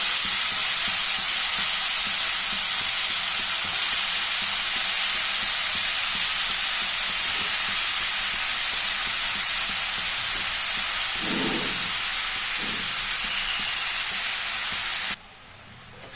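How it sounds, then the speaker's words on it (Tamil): Steady, bright sizzling of eggplant frying in hot oil, with a few soft scraping stirs near the end before the sizzle drops away. "கத்திரிக்காயை நல்லா எண்ணெயிலே ஒரு ரெண்டு முறை பரட்டி விட்டுட்டு"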